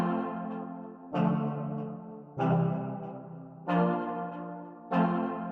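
Layered synth chord progression using the Soul Vortex sound in the Exhale instrument, four sustained chords entering roughly every 1.2 seconds with soft attacks and rich, warm harmonics, close and alone.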